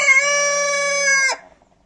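A rooster on a free-range farm of ornamental chickens gives a single loud, close, sustained crow that holds steady before breaking off abruptly, followed by a moment of near silence.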